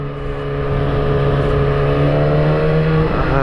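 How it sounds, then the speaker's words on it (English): Engine drone from a motorcycle ride on a busy road with traffic passing behind, a loud steady hum with harmonic tones slowly rising as the engine works, and wind noise throughout. "there's a lot of traffic behind me"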